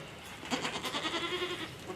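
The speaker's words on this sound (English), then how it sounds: "Anyway, we got our goats trimmed up." A goat bleats faintly after a hoof trimming, giving a single soft, wavering call partway through against quiet rustling background noise.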